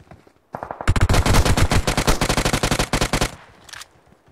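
Rapid automatic gunfire from an MK-style weapon in BGMI, a long loud burst of closely spaced shots lasting about three seconds, followed by a few scattered trailing shots and a brief clatter.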